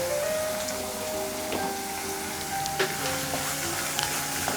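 Onions fry in a pan with turmeric and chillies for lime rice, a steady even sizzle with faint occasional spatula taps, near and fairly soft, no one speaking.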